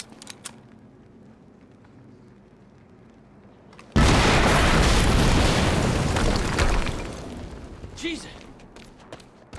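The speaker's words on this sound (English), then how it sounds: "We just heard an explosion near the harvesting perimeter." An explosion in the video game Quantum Break: after a quiet, murmuring stretch, a sudden loud blast erupts, then rumbles and crackles for a few seconds before fading into softer debris and ambience.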